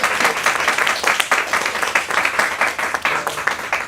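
Theatre audience breaking into a round of applause at a marketing forum, dense sustained clapping from many hands throughout, fairly loud and steady with no talking over it.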